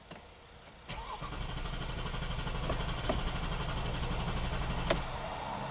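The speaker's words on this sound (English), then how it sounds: "now that the car is charged up, let's crank it" An Audi engine cranks briefly after a dead battery is recharged, catches and starts, then settles into a steady, close idle with a few clicks along the way.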